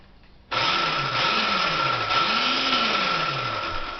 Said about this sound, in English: I'm going to try to pulse this up until it becomes like little crumbles, little crumbs